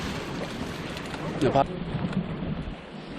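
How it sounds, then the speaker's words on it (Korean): Strong wind gusting steadily at a seaside breakwater, a broad continuous roar buffeting the microphone, with a brief louder surge midway. "바람이 많이 불어서."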